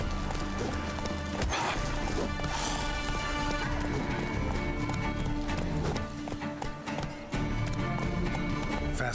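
Roach, the horse in The Witcher 3: Wild Hunt, gallops with rapid, rhythmic hoofbeats that stay up close and loud throughout, with brief dips near the end.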